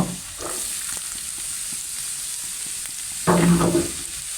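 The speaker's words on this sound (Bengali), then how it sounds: "কেটে রাখা পেঁপে দিয়ে দিলাম।" Cut papaya fries in a hot pan with a steady soft sizzle and scattered stirring clicks, and a louder burst of sizzling near the end as the pieces are moved, with no voices.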